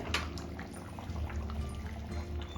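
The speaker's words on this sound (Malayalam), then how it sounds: "കുറേശ്ശെ വെളിച്ചെണ്ണ അങ്ങനെ മേലാലെ ഒഴിച്ച് കൊടുക്കുക" Coconut oil is poured over finished chicken curry, giving a soft, faint liquid trickle over a low steady background hum, with no voices.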